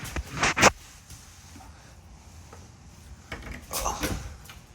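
A storage cabinet door in a 2022 Jayco North Point 380RKGS fifth-wheel RV opens with a quick clack and rattle, followed by quiet handling, then another knock and shuffle near the end.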